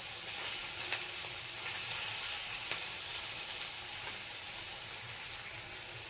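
Mixed, mashed food sizzles in a hot kadai with an even, moderately quiet frying hiss broken by a few small pops and stirring clicks.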